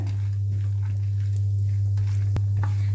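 Chopped cashews sizzle steadily as they roast in hot ghee in a pan, a close, continuous frying hiss with one sharp stirring clink.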